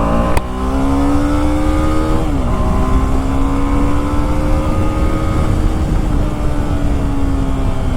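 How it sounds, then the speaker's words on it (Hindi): A BMW G310RR motorcycle engine runs after servicing, a steady close idle with harmonic drone and a brief rev-like pitch shift near the start, continuing smoothly throughout. "अब जो स्मूथ चल रही है ना बाइक"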